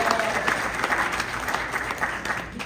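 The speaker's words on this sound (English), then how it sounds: "Clap it up for the moms in here." Comedy club audience at a casino applauding the mothers in the crowd, a dense burst of clapping from many hands, loud and near, fading slightly at the end.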